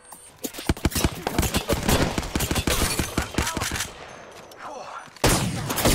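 Rapid automatic gunfire in Apex Legends rattles in dense, loud bursts for several seconds, drops off briefly, then resumes abruptly with another close volley.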